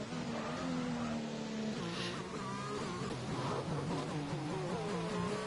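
F1 race cars in F1 2021 on out-laps at the Spanish circuit, several engines whining and shifting in pitch as they pass, a steady faint drone of multiple cars with no voices.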